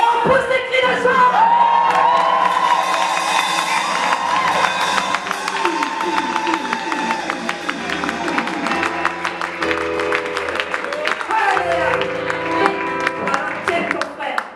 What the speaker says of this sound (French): Et on pousse des cris de joie.